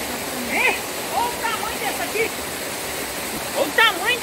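A steady rush of falling water from a waterfall fills the background while people talk over it at a barbecue.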